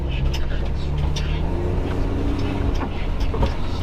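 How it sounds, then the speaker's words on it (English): A vehicle drives along a canyon trail, its engine rumbling steadily and close, with rattling and bumps over rough ground and some voices underneath. "we're gonna keep driving and go back a different route"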